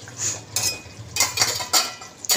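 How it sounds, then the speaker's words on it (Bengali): A metal spoon clinks and scrapes against a pan while stirring an eggplant posto mixture, several sharp, close taps in an uneven rhythm with quiet gaps between them. "তো এটাকে একটু নাড়িয়ে দেবো ভালো করে।"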